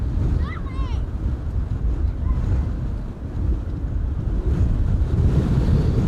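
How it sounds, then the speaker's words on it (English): Strong, relentless wind buffets the microphone at Amsterdam Schiphol Airport, a steady loud low roar with gusty surges throughout, with no talking over it. "Wind is relentless over here."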